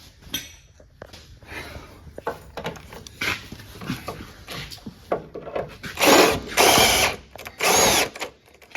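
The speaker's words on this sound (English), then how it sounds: "these Bauer drills, boy, you gotta get them" A Bauer power drill whirs in short bursts during work on a 1976 camper 4x4 van's steering box, with a few loud sustained runs near the end among clanks and faint rattles.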